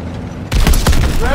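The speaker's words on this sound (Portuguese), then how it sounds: "Disparos contra o casco!" Gunfire strikes the hull of a tank in the Call of Duty WWII video game, with a sudden burst of several sharp, loud impacts and rattling cracks after a quieter rumble.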